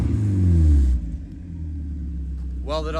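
A modified Mazda Miata with a welded-up aftermarket exhaust rumbles loudly, a deep low engine note swelling at first then settling into a steady idle, with a short burst of voice near the end.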